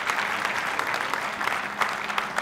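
Steady applause from an audience at the 2010 Tour Championship pool semifinal after a thin-hit shot, a dense, continuous clatter of clapping lasting throughout with a few louder swells, no voices on top.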